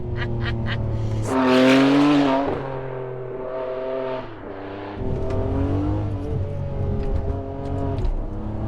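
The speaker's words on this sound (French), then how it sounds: "T'as pour le coup un moteur qui est juste impressionnant." A Ferrari 599 GTB Fiorano's V12 engine runs loud and close, its tone swelling into a strong rev around two seconds, dipping briefly and then holding a steady, rich drone to the end. No one speaks.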